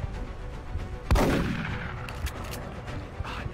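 A single sharp gunshot from the video game XCOM Long War, a loud crack with a ringing, decaying tail that fades over a second or two, set against faint game ambience.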